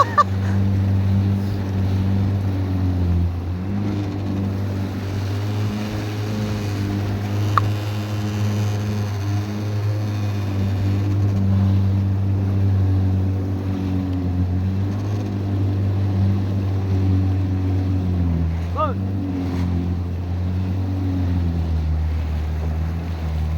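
A small motorboat engine drones steadily and loudly while cruising on water, a continuous low throbbing hum with slight fluctuations and no speech.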